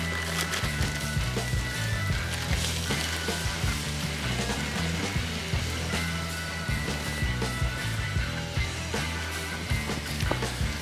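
Shrimp sizzling on a Blackstone E-Series griddle, a continuous close hissing sizzle layered with scattered clicks and scraping knocks of a utensil, steady in level and without speech.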